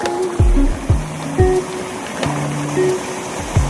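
Steady rushing water roars continuously, broken by a few heavy thuds and splashes at irregular intervals.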